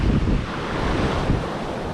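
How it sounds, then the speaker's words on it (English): Strong wind buffets an unshielded GoPro 8 microphone with no wind muff on a surf-fishing beach at New Smyrna Beach. It makes a loud, continuous rumbling roar mixed with the wash of breaking surf, and no one speaks. "the wind's picked up, and we got our GoPro 8, and it doesn't have a wind muff on it"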